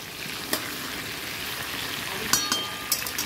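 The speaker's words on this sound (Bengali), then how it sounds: "আলুটা দিয়ে দিলাম ভাজা করতে" Potatoes frying in a pan, a continuous hissing sizzle close up, broken by a few sharp spatters and clicks of stirring, with no talk.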